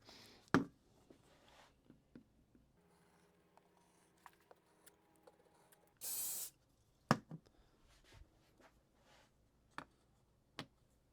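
A single short, close hiss of CA glue activator spray sounds near the middle of a quiet workshop scene, with scattered ticks and small taps before and after.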